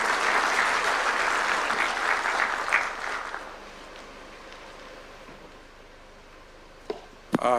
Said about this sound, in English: Can we clap for Dr. James Mwangi?